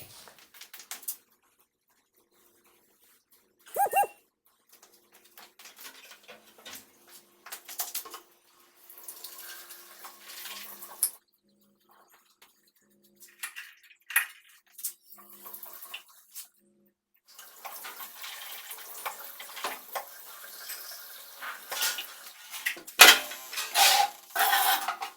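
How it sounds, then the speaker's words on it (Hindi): Tap water runs and splashes into a sink while teeth are brushed on a cold morning, with intermittent bursts of running water and small clatters, close by and without talk. "पहले तो ब्रश कर लेते हैं।"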